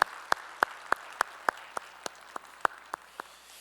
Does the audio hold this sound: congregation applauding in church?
yes